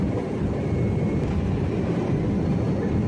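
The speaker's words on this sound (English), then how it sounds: "both thrust reversers are being activated" Airbus A320 jet engines with both thrust reversers deployed, a steady broadband low roar that stays loud and even throughout with no voices.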